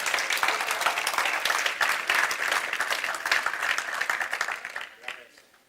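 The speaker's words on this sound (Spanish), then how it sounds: "Denle un aplauso al Señor para que se vaya acomodando." A church congregation claps for the Lord during an evangelical service, brisk crowded clapping with scattered voices that rolls on steadily and then tapers off quickly at the end.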